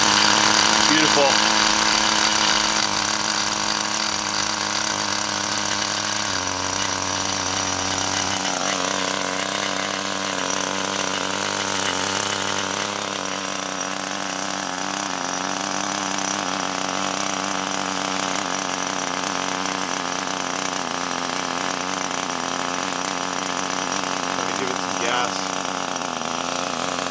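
A 1997 Kyosho Quad Rider nitro RC car with a .12 engine runs steadily in a backyard, giving a continuous high-pitched buzzing whine that stays loud and close for the whole stretch, with no talk over it.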